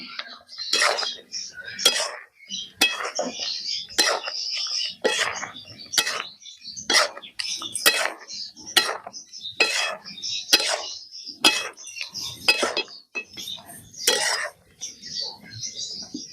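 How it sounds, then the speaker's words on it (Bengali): A spoon mixes roasted spice into jujube pickle made with sugarcane jaggery. It gives a long series of sharp metal-on-pot clinks and scrapes in a steady, uneven rhythm, loud and close. "এবার আমি যে মশলাটা ভেজেছিলাম এবার দিয়ে দিচ্ছি, দিয়ে ভালো করে মিশিয়ে নিচ্ছি।"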